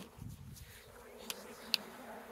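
A recovered honeybee swarm hums at an apiary, heard as a faint, steady buzzing drone with a couple of sharp little ticks over it.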